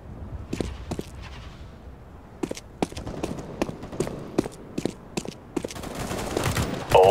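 Gunfire in Counter-Strike: Global Offensive, with sharp shots arriving singly and in quick bursts, spread across the whole stretch and growing busier toward the end.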